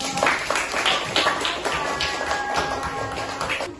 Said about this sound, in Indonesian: Kita kasih tepuk tangan dulu untuk kelompok